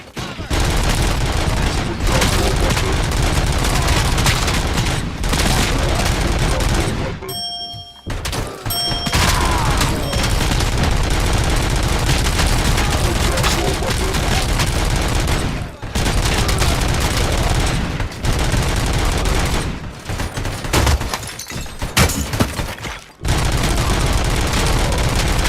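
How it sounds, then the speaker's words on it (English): Loud assault rifle bursts in RoboCop: Rogue City, with sustained automatic fire broken by a few short silent gaps and some heavy thuds, close and dominant. "I like the assault rifle"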